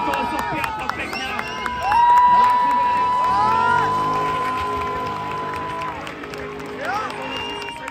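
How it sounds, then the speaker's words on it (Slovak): Spectators at a street demolition derby race in a town centre cheer and clap in a loud, steady crowd roar that swells near the second mark, with a whistle-like tone and scattered shouts over it. "Obrovský potlesk pred tohto tu blázna."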